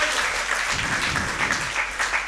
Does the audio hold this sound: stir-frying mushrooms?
no